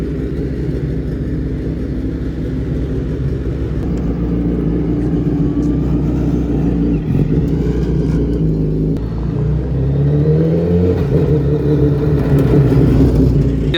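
A car driven hard around a track by a professional driver, its engine a steady loud rumble with revs swelling and dropping as it runs through corners.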